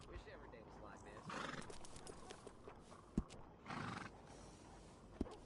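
A horse in Red Dead Redemption 2 whinnies twice amid a quiet outdoor morning, with a few sharp hoof clops between, while someone talks throughout.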